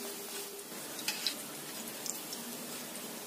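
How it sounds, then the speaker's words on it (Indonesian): Snacks fry in hot oil with a steady, dense sizzle throughout, broken by a few faint pops and crackles, with no one talking. "Kemudian kita goreng yang selanjutnya ya."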